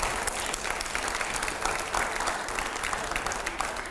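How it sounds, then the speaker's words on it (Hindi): Continuous applause from a studio audience at a televised debate, dense and even throughout with no break. "जोरदार तालियां अगले सवाल से पहले।"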